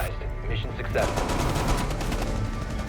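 Rapid automatic gunfire rattles through a wall in a tactical shooter video game, a dense, continuous burst of repeated shots that stays loud throughout, with a voice faintly present underneath.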